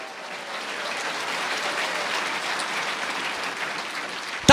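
Steady applause from a church congregation fills the space, a dense even patter of many hands holding at a moderate level throughout.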